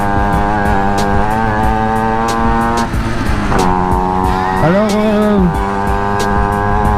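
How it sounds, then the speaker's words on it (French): A loud motorcycle fitted with an aftermarket cornet exhaust rumbles steadily up close, its engine note rising and falling with revs, while someone says a word over it. "comme vous pouvez l'entendre, la moto elle fait un sacré bordel"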